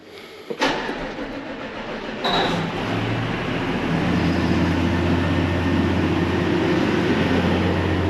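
A hay chopper's engine cranks with a couple of sharp thumps, then catches and settles into a steady, loud, droning run that continues alone.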